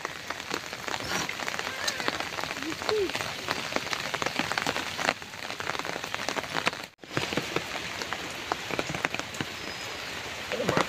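Heavy rain pours down steadily in the Sundarbans, a dense, even hiss of drops striking surfaces that holds for the whole stretch, broken only by a brief dip near the end.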